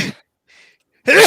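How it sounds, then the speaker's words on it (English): A sharp, close sneeze bursts out, followed by a faint breathy hiss, then a second loud sneeze begins right after a brief pause. "I sneezed 3 times"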